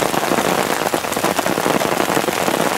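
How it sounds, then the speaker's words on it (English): Heavy rain pours steadily into a bucket from a tarp catchment, a dense, continuous outdoor patter and splash, loud and without pause. "You can see this water right now is really pouring into this bucket here."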